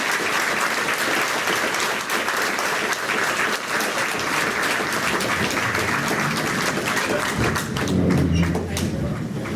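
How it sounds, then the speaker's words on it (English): An audience at a town hall in Chico, California, applauds in sustained, even clapping that stays loud for several seconds, with scattered thuds and a brief murmur of voices toward the end. "please come on up, speakers, and give them a round of applause while they're coming up"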